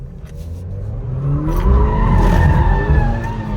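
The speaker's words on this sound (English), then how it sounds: "We're gonna do one donut and we getting the fuck on" Loud tire squeal and skidding from a car spinning in circles, with engine roar underneath, close and continuous.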